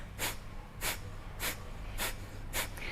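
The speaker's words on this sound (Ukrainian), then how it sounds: "Це коли ми підтягуємо живіт на видусі, форсовано видихаємо через ніс." Five sharp, forceful nasal exhalations of kapalabhati breathing, evenly spaced about every 0.6 seconds, each a short breathy puff with no voice, close and clear over a low background hum.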